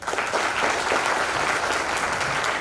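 Steady applause from a crowd at a company awards event, dense clapping that stays at an even loudness throughout without pause.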